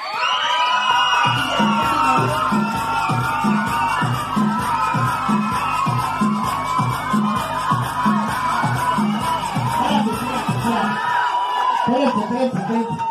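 Children shouting and cheering with a steady rhythmic clapping at a birthday party with a clown entertainer, loud and continuous, with dense crowd noise and voices throughout.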